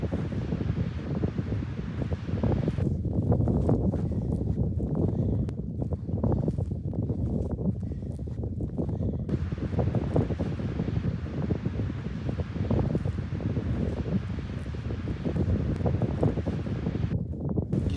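Strong wind blows continuously near a village, roaring across the microphone with rustling leaves and gusty buffeting throughout, loud and steady with no talking.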